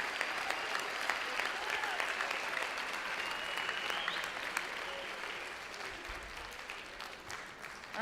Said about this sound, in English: So give this group another round of applause